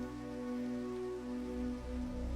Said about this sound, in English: The fact that it started raining just now